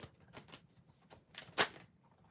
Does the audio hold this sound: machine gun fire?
no